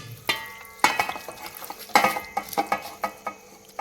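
A spoon stirs and scrapes through chicken with mint and masala in a hot pan, giving a string of close clanks and scrapes over a faint sizzle.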